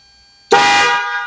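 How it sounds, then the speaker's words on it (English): A Factory 5 Racing Roadster kit car's horn blares loud and close in one sustained, steady honk of about a second, with a quiet lead-in before it. "Moment of truth on the horn"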